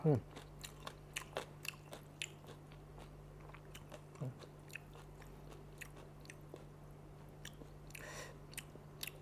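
Someone eats a spicy yam bean salad with hot sticky rice, with close crisp bites and repeated crunchy chewing over a low steady hum.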